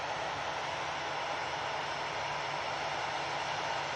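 An airliner departs Manchester Airport bound for Barcelona, its engines a steady, broad distant roar holding at an even level throughout.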